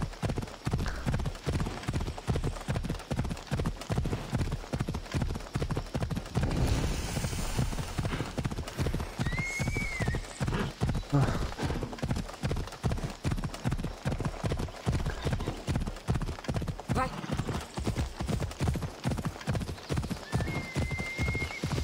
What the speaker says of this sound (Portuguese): onde que esse cavalo ia?